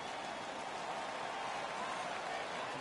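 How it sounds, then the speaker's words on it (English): Hockey arena crowd in the NHL 16 video game roaring in a steady, dense wash of cheering and applause, loud and continuous throughout with no break. "The crowd is ecstatic."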